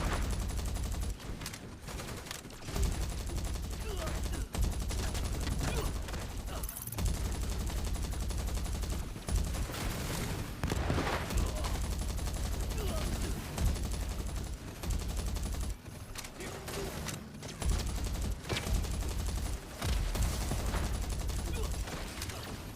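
Continuous gunfire in Earth Revival, with rapid automatic bursts and single shots running throughout amid dense battle noise, loud and steady with brief gaps.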